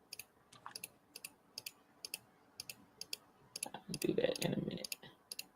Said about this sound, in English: Can't hear me clicking, can you?